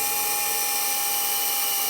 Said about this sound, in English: then come back and drill all the pilot holes, and then drill all the finish holes